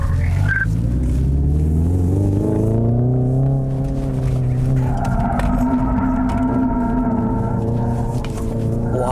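Hyundai Ioniq 5 N electric performance car on a race circuit, a loud sustained whine and rumble that rises and shifts in pitch as it accelerates through corners, continuous and close throughout.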